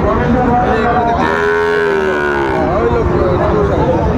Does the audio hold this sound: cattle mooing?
yes